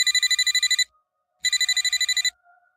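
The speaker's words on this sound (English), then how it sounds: "Then my work phone rang." A work phone rings in two rapid trilling bursts, each a fast electronic warble lasting under a second, separated by a brief silence, close and clear in a quiet room.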